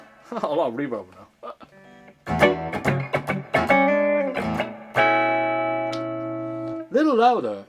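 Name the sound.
vintage guitar played through amp with a lot of reverb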